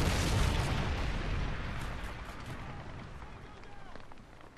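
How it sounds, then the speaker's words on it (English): A predator missile strike in a tactical multiplayer video game lands as a loud, close explosion: a broad blast right at the start that rumbles and slowly fades over several seconds. "Friendly predator missile inbound."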